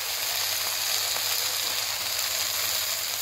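Potato and eggplant fry in a pan for a home-style aloo baingan curry, making a constant soft sizzle with a low hum underneath and no talk.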